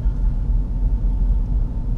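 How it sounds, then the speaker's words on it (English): A 2018 Jeep Grand Cherokee Trackhawk with a 426-cubic-inch supercharged V8 idles close by, a deep, lumpy rumble that pulses unevenly with no voices over it. "this idle shakes the whole car like you want a big cammed out at V8"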